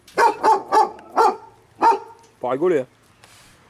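A dog barks repeatedly nearby, about five sharp barks in an uneven rhythm followed by a longer yelping vocalisation, with someone speaking briefly in between.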